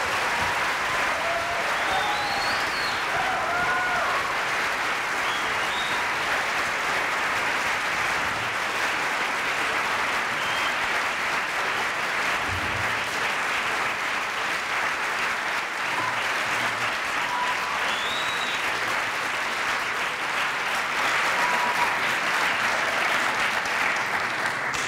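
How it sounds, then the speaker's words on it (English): Audience applause for Professor Chomsky at a public debate on America's support for Israel, a steady, dense wash of clapping filling the room without a break for the whole stretch. "Give him a round of applause."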